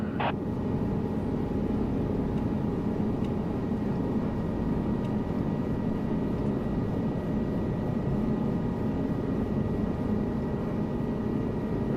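A helicopter in the Flight Simulator 2024 game hums with a steady low rotor and engine drone that stays constant and unbroken, with no speech over it.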